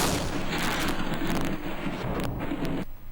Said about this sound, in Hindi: पाक फौज के दस्तों ने कौमी रिवायत के मुताबिक तोपों की सलामी पेश की